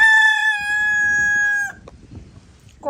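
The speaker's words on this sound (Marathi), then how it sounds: "कोंबडा कोकतो." A village rooster crows once nearby, a loud sustained call lasting over a second and a half, followed by quiet yard noise.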